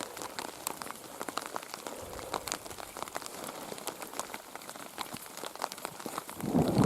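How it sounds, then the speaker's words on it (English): Rain patters and taps close by on surfaces outdoors at Nordmela on Andøya, Norway, as a thunderstorm passes over, with crisp irregular drops throughout and a louder rustle at the end. "So it started to rain and it's thunder and lightning kind of passing straight over us."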